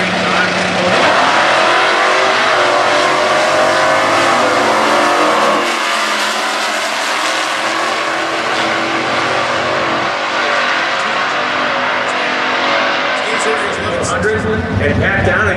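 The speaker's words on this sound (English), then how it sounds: "Anderson, the K-Stock automatic, 1980 Malibu. Steve Zorni driving the 2003 Dodge" Stock class drag race cars, a 1980 Malibu K-Stock automatic and a 2003 Dodge, accelerate hard down the strip at Indy, a loud sustained engine roar throughout. A public-address announcer talks over it, and the noise changes near the end.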